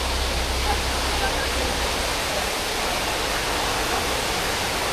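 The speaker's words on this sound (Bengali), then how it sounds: "সেই ড্যামেরই পুরো জল এদিক দিয়ে ছাড়ছে" Monsoon floodwater released from a dam at Ghodahada in Odisha, a dense, steady rushing roar that fills the scene evenly from start to finish, with a faint low rumble underneath.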